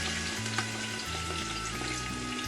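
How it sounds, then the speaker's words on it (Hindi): Onions dropped into hot oil in a pot for mutton pulao, a dense crackling fry sizzle with a low humming tone beneath, steady and close. "ऑयल हमारा गर्म हो चुका है, तो अब हम इसके अंदर प्याज को शामिल करेंगे।"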